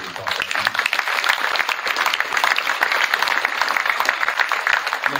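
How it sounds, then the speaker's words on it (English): Dense, steady applause fills a high school wrestling signing ceremony at Rockhurst High as a crowd claps for two wrestlers, sustained and close throughout with no voices over it. "let's give both of them a round of applause"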